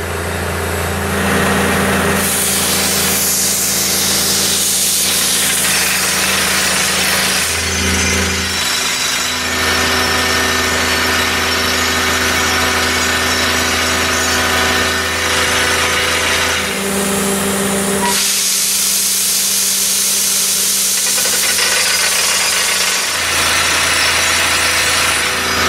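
A drill runs steadily with loud, continuous grinding and rubbing of a working rig, operated by a new worker, with a strong engine hum underneath and brief dips in intensity along the way; no talk.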